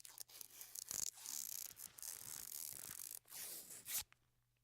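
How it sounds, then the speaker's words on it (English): Video game healing sound of a character bandaging themselves: a run of rustling, ripping cloth-like bursts with brief pauses, close and fairly quiet, with no voices. "It's the sound of you bandaging yourself up in game."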